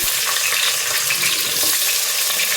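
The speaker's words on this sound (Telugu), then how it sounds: "దీనిలో సరిపడా ఆయిల్ వేసుకున్నాను. దీనిలో ఆనియన్స్ వేసి" Onions fry in oil in a small pan, giving a steady close hiss and sizzle that stays even throughout with no voices.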